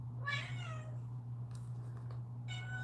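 A cat meows twice, a drawn-out meow at the start and a shorter one near the end, close but fairly quiet over a steady low hum.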